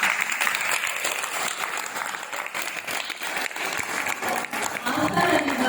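Steady audience applause at a devotional performance, dense continuous clapping from a crowd holding at an even level throughout, with faint voices underneath.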